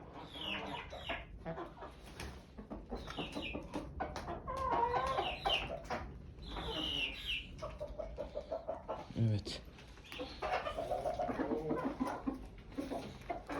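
Hens cluck and murmur in a backyard coop during egg collection, with repeated close clucks and squawks throughout, mixed with a person talking.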